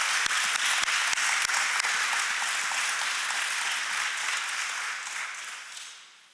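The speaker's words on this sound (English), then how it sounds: "Big round of applause for those guys." Press-conference audience applauding newly drafted NBA players at an Indiana Pacers introduction, a few sharp individual claps at the start before steady, dense clapping that holds and then fades toward the end.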